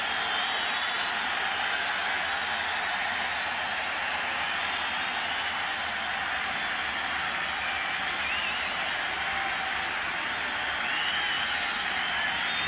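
Baseball stadium crowd at a 1997 ALCS playoff game in Cleveland, a dense, steady roar of cheering and clapping that holds at full level throughout, with no break.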